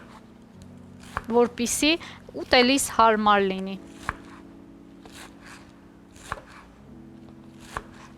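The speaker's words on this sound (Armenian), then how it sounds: "Առաջին կարևոր գործը հենց կանաչիները մանրեցնելն է" A knife finely chops fresh greens on a board. A few sharp, separate taps come at uneven intervals after a stretch of talking.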